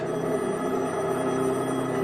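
A telephone bell rings continuously and loudly at close range, a steady trilling electronic ring with no voices over it.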